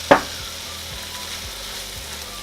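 Pork sizzles steadily in a hot pan for Thai basil pork with fish sauce, opening with a sharp clatter and then a constant frying hiss. Soft stirring knocks come through at a slow, regular pace, with no talk.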